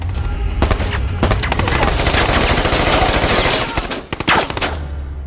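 Rapid automatic gunfire rattles through a fierce shootout, loud and dense bursts overlapping with single sharp shots, continuous for several seconds before tapering off.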